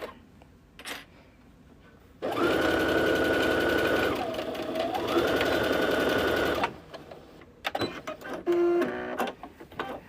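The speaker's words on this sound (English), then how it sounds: "we're going to resume and do our back stitch here and go down to the end." A domestic sewing machine runs a back stitch on a fabric boxy bag, whirring steadily and up close for several seconds with a short pitch dip mid-run, then stopping and giving a few brief bursts.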